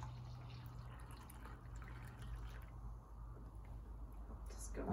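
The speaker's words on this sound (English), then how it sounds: "I'll pour yours first. Let's have this glorious liquid." Colombian El Mirador blend coffee being poured into a cup, a soft steady trickle and splash under faint room noise.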